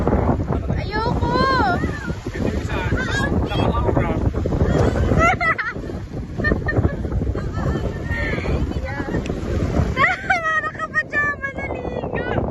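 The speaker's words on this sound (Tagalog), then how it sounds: "Ang hangin!" Strong, constant wind buffeting a microphone near the sea, roaring broadband noise throughout with voices talking and calling over it.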